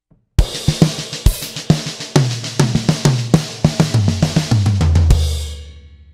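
Metal drum fill played alone on a kit, a rapid run of about twenty close hits mixing soft and loud strokes in uneven groupings, ending on a heavy hit with a ringing decay.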